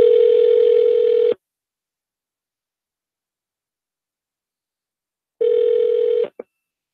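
A telephone ring tone sounds loud and steady for over a second, then a long silence, then a second ring burst followed by a short click.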